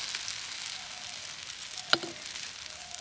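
Jali chitoi pitha batter frying in hot oil, a soft steady sizzle throughout with one brief sharp tick midway, faint and close, with no talk.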